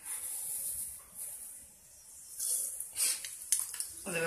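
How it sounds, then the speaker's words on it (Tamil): Half a teaspoon of mustard seeds splutter in hot oil while tomato kurma is being made: a steady sizzling hiss broken by a cluster of sharp crackling pops toward the end. "இந்த கடுகு வெடிச்ச உடனே"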